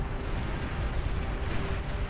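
Plasma cannons fire in a massive real-time strategy battle in Beyond All Reason, a dense, continuous rumble of overlapping booms and bursts that is loud and steady throughout.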